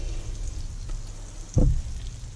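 A big knob of butter sizzling as it melts in a hot pan with scallops, a steady, soft crackle throughout with a short, louder spitting burst partway through.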